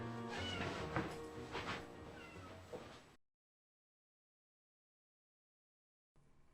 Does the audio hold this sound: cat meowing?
yes